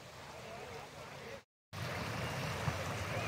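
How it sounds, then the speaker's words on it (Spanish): The Cañaveralejo river in Santiago de Cali, one of the city's natural rivers, rushes with a steady broadband wash, loud and close, broken by a brief cut of silence partway through. "Con el sonido del río Cañaveralejo, uno de los 10 ríos naturales de la ciudad de Santiago de Cali"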